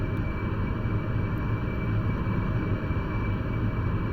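An AV-8B Harrier jet in DCS World slows down, giving a constant dense engine roar with a steady high whine on top, close and continuous, no voices.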